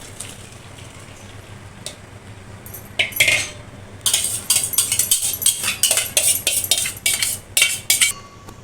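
Cooked rice tipped from a metal pot into a strainer in a home kitchen, giving a run of close, loud clinks and scraping metallic clatter that builds after a quiet start, with no talk.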